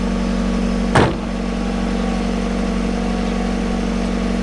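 A car engine idles steadily just after starting following weeks unused, a close, constant low hum with one brief thump early on and no voices.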